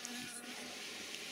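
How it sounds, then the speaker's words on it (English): Black honeybees buzz around an open top bar hive on the Isle of Man, a faint, steady droning hum with no voices. "there's quite a few bees trapped in that gap"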